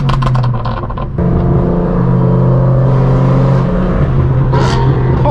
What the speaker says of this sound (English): That McLaren sounds wild.